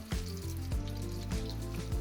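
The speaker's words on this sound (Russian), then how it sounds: "Обжариваем помидоры 2 минутки." Diced tomatoes frying in a pan give a steady soft sizzle, heard close and fairly quiet, with a few recurring low knocks layered over it.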